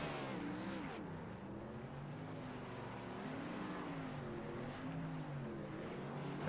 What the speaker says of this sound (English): see how these burnouts go